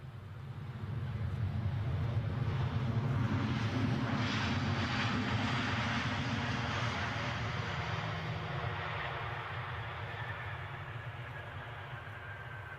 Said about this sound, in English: So this is the Ryanair from Tenerife, the one that's been in the air for about 4 hours.